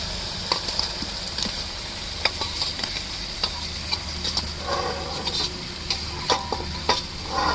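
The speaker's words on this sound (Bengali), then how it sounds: "এবার ভেজে রাখা আলু আর চিংড়ি মাছগুলো দিয়ে দিচ্ছি।" Fried potatoes and shrimp are stirred into sizzling masala in a pan. A continuous frying hiss runs throughout, broken by irregular scraping and clinking stirs of a spatula against the pan.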